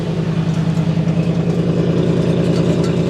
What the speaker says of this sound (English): Oh, there's stuff rattling in the exhaust. Listen to how that sounds.